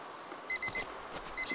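Electronic detector in ArmA 2 giving short repeated beeps, a cluster of three followed after a pause by two more, fairly faint over a low background hum.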